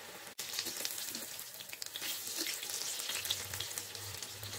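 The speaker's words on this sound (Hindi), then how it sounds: "मशरूम पकौड़ा और एक साइड अच्छी तरह से फ्राई होने के बाद फ्लिप करूँगी।" Mushroom pakoras in gram-flour batter deep-frying in hot oil, a steady close crackling sizzle with bright bubbling throughout, one brief sharp tap near the start and a faint low hum toward the end.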